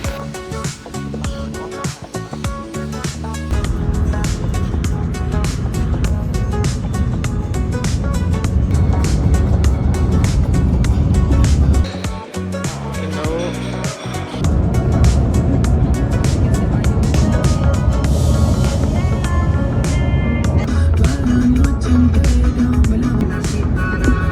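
Steady road traffic in a jam on a trip to Seville, a continuous loud rumble of engines and tyres with a brief lull partway through, then the dense drone resumes.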